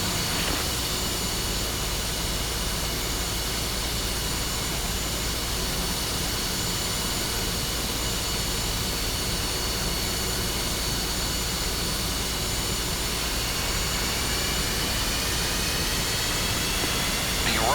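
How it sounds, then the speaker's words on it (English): Jet engine of an F-5E fighter in the DCS combat flight simulator spooling up to idle, a steady loud roar with a high whine that holds constant throughout, with no break in the sound. "Engine is now reaching idle RPM."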